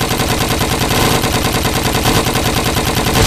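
Dense, rapid gunfire in a Lego zombie apocalypse animation, a loud unbroken rattle of shots close up for the whole stretch with no speech.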